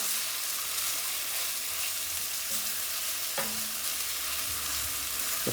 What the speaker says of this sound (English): So now all we want is the onions to soften up